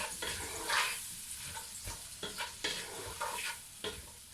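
Onions fry in a hot pan for a beef mince curry, a soft steady sizzle broken by scraping stirs of a utensil against the pan, close and unaccompanied by talk.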